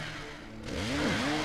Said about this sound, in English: We could do a little chainsaw boomstick combo too with the attacking